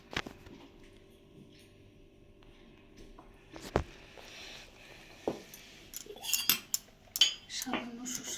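A spoon beating a spiced paneer kebab marinade with mustard oil in a bowl, irregular sharp clinks and knocks, sparse at first then quicker and denser, close.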